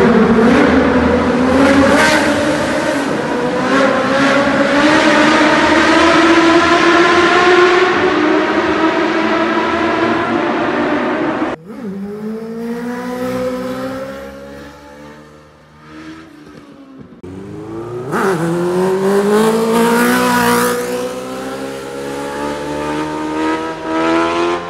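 A 1000cc Suzuki motorcycle fitted with a new, loud aftermarket race exhaust revs hard up close, with a long sustained roar, a brief drop, then several more sharp throttle blips climbing and falling in pitch.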